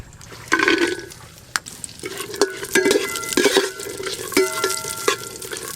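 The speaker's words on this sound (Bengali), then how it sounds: "প্রথমে হাঁড়িতে ঘি দেব, তেজপাতা দেব, আর দেব গোটা গরম মশলা, কাজু কিশমিশ নিয়েছি দিয়ে দেব।" Ghee with bay leaf, whole spices, cashews and raisins frying in a cooking pot, with a bubbling sizzle and a series of stirring scrapes and clinks, close and fairly loud, no speech.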